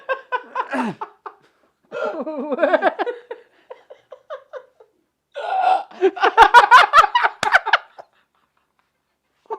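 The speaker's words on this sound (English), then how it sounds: "You got some of the dumbest hiccups ever" Repeated hiccups break out amid laughter and giggling from people at a live podcast recording, coming in short voiced bursts with gaps between them and growing louder and denser toward the end.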